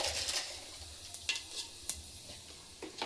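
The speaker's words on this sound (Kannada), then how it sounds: "ಸ್ವಲ್ಪ ಜೀರಿಗೆ ಹಾಕ್ತಾಯಿದ್ದೀನಿ, ಒಂದು ಅರ್ಧ ಸ್ಪೂನಷ್ಟು. ಮತ್ತು ಸೋಂಪು ಹಾಕ್ತಾಯಿದ್ದೀನಿ" Cumin and fennel seeds sizzle softly in hot oil in a home kitchen, a steady faint crackle with a few sharp spoon-on-pan clinks.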